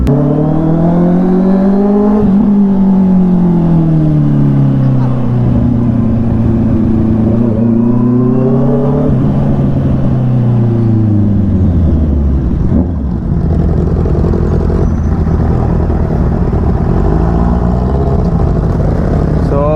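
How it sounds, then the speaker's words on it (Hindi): A loud Honda CBR650R motorcycle engine revs and rises and falls in pitch, its throaty exhaust roaring steadily close by as the bike rides along. "मुझे एक्चुअली फील हो रहा है कि बज़ूका का साउंड ज़्यादा है"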